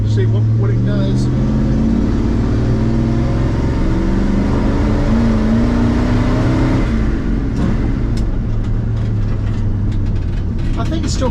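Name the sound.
1974 Ford pickup with 390 FE big block accelerating, running rough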